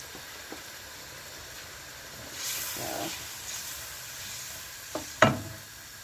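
Tomato frying in a pot for local rice gives a quiet, hissing sizzle with soft stirring, swelling briefly in the middle. A couple of sharp clinks of a utensil come near the end.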